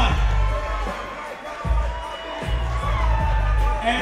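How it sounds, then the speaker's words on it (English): A big crowd roars and cheers for cyclist Anton Potocki at a cyclocross race, a loud, sustained wash of voices and whoops with a few sharp bangs and swells throughout. "Big roar of the crowd for Anton Potocki"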